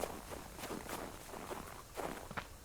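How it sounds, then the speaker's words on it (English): Footsteps from the survival video game Subsistence: a run of soft, evenly spaced steps, about six in under three seconds, fairly close and with no talking over them. "I'm hearing all kinds of weird footsteps"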